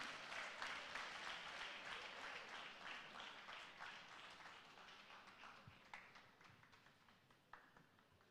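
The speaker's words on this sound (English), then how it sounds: "A round of applause for him." Applause from an audience at a Lagos town hall meeting greets a panelist, a dense patter of clapping that starts strong and slowly thins out over several seconds, with a few louder individual claps near the end.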